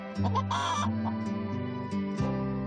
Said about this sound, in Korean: 암탉 한 마리가 계란을 수거하러 갈 때마다 알 둥지에서 나오지 않고 소리를 지르는 것이었다